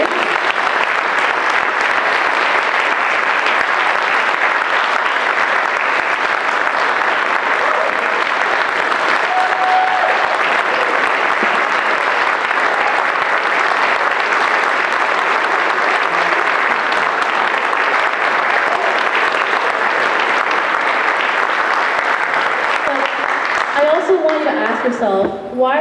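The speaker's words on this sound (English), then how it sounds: "I'd like to get one more round of applause for the panelists and our wonderful moderators." A crowd at a youth candidate night gives a long, loud, unbroken round of applause for panelists and moderators, the dense clapping lasting nearly half a minute before voices emerge at the very end.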